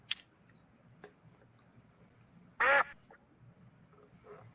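A single loud, nasal duck quack plays as a sound effect, standing out against a quiet background with a few faint ticks around it.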